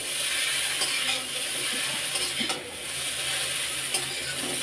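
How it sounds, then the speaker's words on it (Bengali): Egg chow mein stir-fried in a home kitchen pan: a steady loud sizzle with repeated scraping stirs and occasional light metallic clinks, close up, with no one talking. "চাউমিন, ডিম দিয়ে চাউমিন করছি।"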